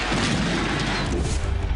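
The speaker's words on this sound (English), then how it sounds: "Fire the cannon." Cannon fired inside an NFL football stadium after a Tampa Bay touchdown, a loud, dense boom rolling into heavy crowd roar that fills the whole short stretch with no clear gap.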